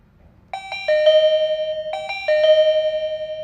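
An ARLEC DC685BK wireless door chime plays a clear electronic ding-dong melody twice in a row. The bright tones ring out close and loud, each sustaining before the next starts.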